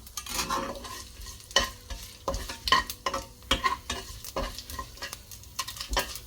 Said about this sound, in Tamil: சரி, பொரியுது, சத்தம் வருது.